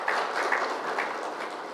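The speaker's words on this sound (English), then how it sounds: "A big round of applause." Steady audience applause at a chief guest's speaking event, a dense continuous patter of many hands clapping at moderate level with no voices over it.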